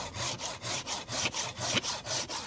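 Hand saw cutting through the woody trunk of a Mai tu quy apricot scion for grafting, about ten steady rasping back-and-forth strokes in an even rhythm, close and moderately quiet.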